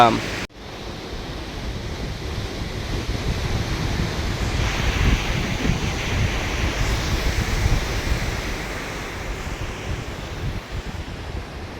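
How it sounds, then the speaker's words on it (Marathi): Surf rolls in at Kelshi beach on the Konkan coast, a steady, close roar of breaking waves mixed with wind buffeting the microphone. "आपला केलशी किनारा घराच्या अंतरा पाच मिनिटाच्या अंतरावरती आहे"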